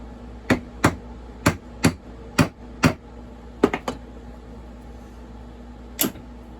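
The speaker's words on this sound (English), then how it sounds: "I was using a small hammer." Sharp metallic taps from a small hammer during a teardown of a water-damaged STIHL MS460 chainsaw, a steady run of evenly spaced strikes, then a quick cluster and one last tap after a pause.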